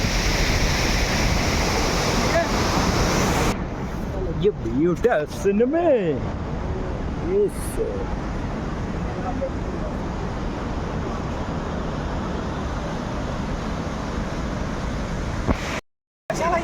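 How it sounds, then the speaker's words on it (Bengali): Waterfall water pouring down heavily on the Himalayan route from Rishikesh to Sonprayag, a steady, loud, broadband rush throughout, with voices briefly audible over it and a short dropout near the end. "দেখো কি পরিমাণে জল পড়ছে ঝর্নার জল"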